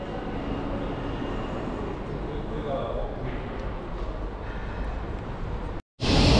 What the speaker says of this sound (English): And here it is, the high speed train.